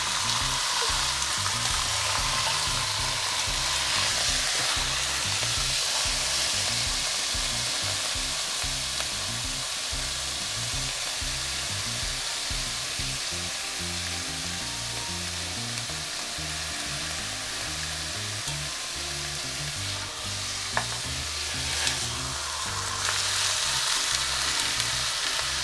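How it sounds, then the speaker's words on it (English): Beef roast searing in a hot pan for roast beef, giving a loud, steady, close sizzle and spitting fry with occasional stirring noises and no talking. "The reason we sear the meat is to keep all the juices from coming out"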